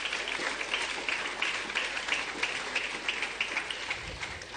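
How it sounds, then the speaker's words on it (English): Sustained crowd applause fills a graduation ceremony hall for the class of 2026, a dense steady patter of many hands clapping together at moderate loudness, with faint cheering underneath. "Let's give Uncle Mike a round of applause."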